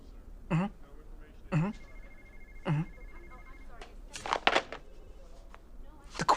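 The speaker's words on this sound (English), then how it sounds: "The phone's ringing off the hook." A telephone rings three times in evenly spaced short bursts, followed by clattering and scattered talk from people nearby.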